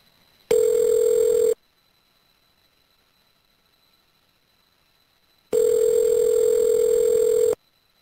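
A prison calling system dials out, giving two loud, steady electronic telephone tones of about a second each, separated by several seconds of near silence.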